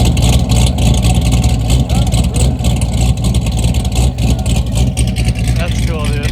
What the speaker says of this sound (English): Now listen to the difference in the active exhaust.